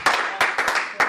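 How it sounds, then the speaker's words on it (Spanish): Congregation clapping at a Spanish-language church service, a few loose bursts of hand claps in an uneven rhythm, close and moderately loud over a short span. "Un aplauso, porque podemos entender esa palabra."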